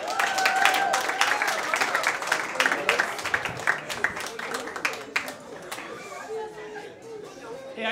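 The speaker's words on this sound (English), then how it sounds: "Clap it up for Jonathan Yates." A packed comedy club audience at The Laughing Skull Lounge in Atlanta claps and chatters for a comic taking the stage, a dense burst of close applause that thins out after about five seconds.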